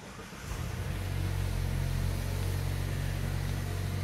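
A 2022 Mazda CX-9 FWD engine starts at the push of a start-stop button, catching after a brief moment and settling into a steady, quiet idle hum close by.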